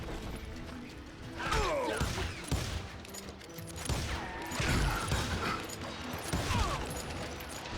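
Gunshots and weapon reloading in the Wild West video game Call of Juarez, with Billy the Kid as a character: sharp shots in irregular bursts with mechanical clicks and clatter between them, loud and close over a steady game background.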